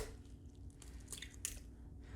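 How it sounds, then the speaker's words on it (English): Eggs are cracked into mashed-banana batter for flourless banana bread, giving soft, wet squishes and a couple of small sharp cracks and drips, quiet and close with no talking. "Next up, I'm going to add the eggs."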